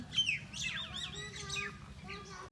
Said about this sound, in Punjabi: ਚਿੜੀਆਂ ਦੀ ਆਵਾਜ਼ ਆਉਂਦੀ ਪਈ ਹੁੰਦੀ